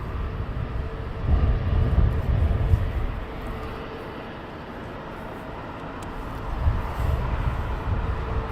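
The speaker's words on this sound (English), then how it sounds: "British Airways intersection takeoff" A British Airways airliner making an intersection takeoff at Heathrow, a distant broad jet roar that swells, eases, then builds again, fairly steady and unaccompanied by talk.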